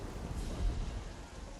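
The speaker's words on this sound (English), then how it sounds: "We've actually got a thunderstorm now." Steady rain and a low rolling rumble of thunder fill a thunderstorm in the video game Terraria, a dense continuous wash with no voices.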